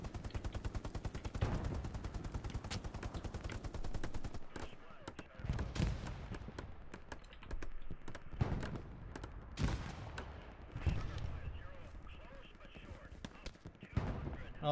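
Gunfire fills a Hell Let Loose battle: a long, steady machine-gun burst gives way to scattered single shots and short volleys, some near and some distant, with voices talking over it.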